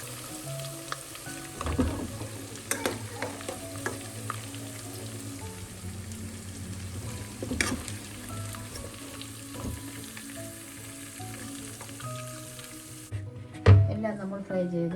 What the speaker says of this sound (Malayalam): സെക്കൻഡ് സ്റ്റെപ്പ്, ബാക്കിയുള്ള ഫിഷും കൂടെ നമുക്കൊന്ന് ഫ്രൈ ചെയ്യാം